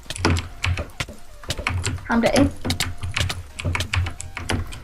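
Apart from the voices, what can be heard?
computer keyboard typing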